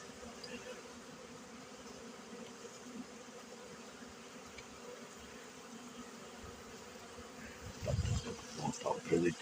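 Honey bees fly around the entrance of a hive in early spring as foragers return with pollen, a faint steady buzzing hum close by, with a brief burst of louder rustling and voice near the end.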